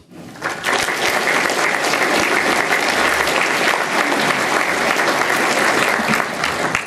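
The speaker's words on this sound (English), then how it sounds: "It's the first time anybody's applauded since way back in 1985" A large audience gives sustained applause for economist David Stockman at a talk on crony capitalism. Dense, steady clapping swells in quickly and holds at a loud, even level throughout.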